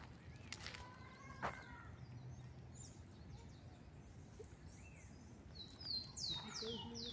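Several short chirping calls from a small bird, light and fairly distant, scattered over steady outdoor background noise in an ecological park, with a brighter burst of song near the end.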